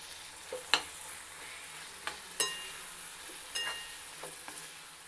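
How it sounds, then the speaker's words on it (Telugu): Tomato pieces cooking down in a pan for tiffin-centre-style chutney, a soft low sizzle under occasional sharp clinks and scrapes of a spoon against the pan. "టమాటా ముక్కలు మగ్గిపోయాయి"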